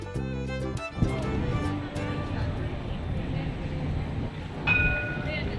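An Edinburgh tram rumbles past close by, a steady rolling rail noise with a brief bright ringing tone near the end.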